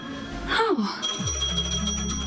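A phone in Honkai: Star Rail starts up with a bright, steady electronic ringing tone that repeats in quick pulses, heard close and clear just after a short spoken exclamation.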